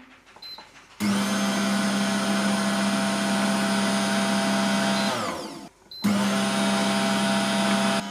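A Silvercrest SPM 220 pasta machine kneads dough with a steady, loud motor hum that runs for about four seconds, stops briefly, then starts again.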